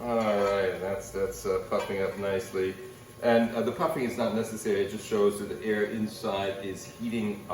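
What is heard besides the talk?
No everyday noises stand out.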